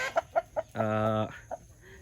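Giant Brazilian chickens grazing on grass in the evening, giving several short, close clucks in a loose rhythm, then a longer drawn-out call and one more cluck, fairly loud and with no talk.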